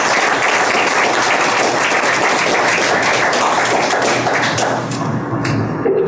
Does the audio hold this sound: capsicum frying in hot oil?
no